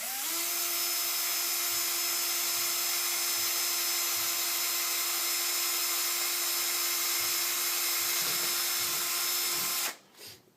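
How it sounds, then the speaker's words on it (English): A power drill whines at a steady, even pitch for about ten seconds while boring screw holes for a Printrbot bed leveler, then cuts off abruptly. "So I'm just going to hold this down and drill my new screw holes."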